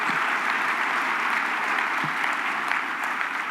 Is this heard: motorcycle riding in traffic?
no